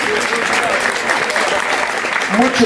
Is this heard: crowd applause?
yes